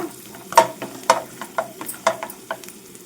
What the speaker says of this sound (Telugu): ఇప్పుడు తీసుకున్న జీడిపప్పు వేస్తున్నాను